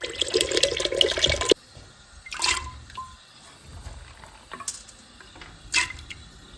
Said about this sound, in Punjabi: ਜਿਹੜਾ ਪਾਣੀ ਹੋਣਾ ਚਾਹੀਦਾ ਐਨਾ ਪਾਣੀ ਮੈਂ ਪਾ ਲਿਆ